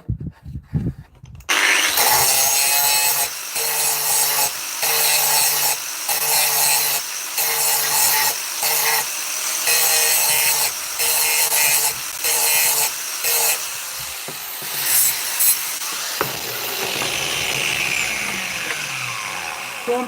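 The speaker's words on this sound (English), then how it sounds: "I'm just going to use the flat of the grinder disc itself, grinding disc" An angle grinder's disc, held flat, grinds 304 stainless steel in a loud, continuous abrasive roar that pulses in short regular bursts before easing off near the end.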